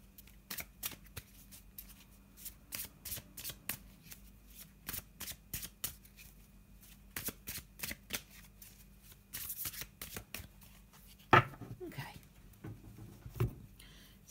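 A Faulkner Tarot card deck is shuffled by hand in quick bursts of riffling and flicking card sounds, close and fairly quiet, with short pauses between rounds and a few soft knocks near the end.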